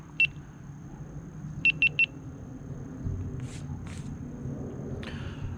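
Short electronic beeps from a GoPro Hero 11 starting to record: one single chirp, then a quick run of three evenly spaced tones, over a low background hum with faint shuffling afterward.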